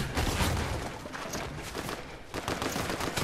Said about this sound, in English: I got gunshots.